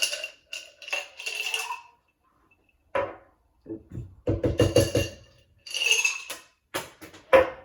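Ice cubes clink and rattle as they drop into a glass for a vermouth cocktail, several sharp bursts of knocking and tinkling separated by short pauses, close and bright.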